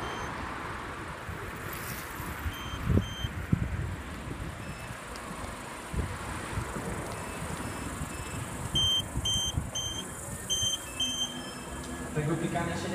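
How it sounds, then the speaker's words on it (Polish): Electric unicycle beeps during a night ride, with short high electronic pips in rapid clusters over steady wind and road rumble, fairly faint and outdoors. "Tego pikania się nie da wyłączyć"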